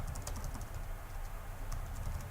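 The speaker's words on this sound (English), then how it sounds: "So the other person is typing in there at the same time I could." Soft, rapid keystrokes on a computer keyboard clatter steadily at low level over a constant background hum, with no voices.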